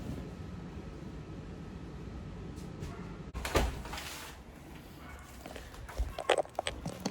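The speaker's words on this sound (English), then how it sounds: "So I'm shutting my door" A door being shut outdoors, heard as a single sharp thump midway through faint background ambience, followed by a few softer knocks and rattles.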